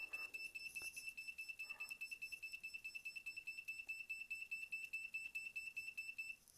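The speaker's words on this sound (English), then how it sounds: "And there you have your very own alarm." A homemade Arduino room alarm gives off a steady, piercing high-pitched electronic tone with a fast rhythmic pulse, fairly faint and alone in a quiet room.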